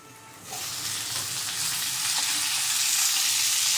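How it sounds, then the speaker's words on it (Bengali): Chickpeas and other food fry in a pan while being stirred and pressed with a utensil, giving a steady, close, broadband sizzle that swells after the first half-second and grows slightly louder, with faint scraping and no talk. "আমি এটা ভালো করে এবার নাড়ব"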